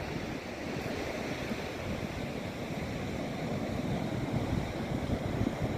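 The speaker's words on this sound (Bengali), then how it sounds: "বেশ ভালো ঢেউ আছে সমুদ্রে," Ocean waves break on an empty Dublagadi beach in the morning with a good breeze blowing. The surf makes a continuous, broad rush with wind noise, steady and moderately loud.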